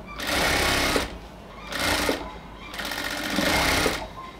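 A sewing machine runs in three loud bursts of rapid, even stitching with short pauses between, double-stitching the waistband of a pair of ladies' pants.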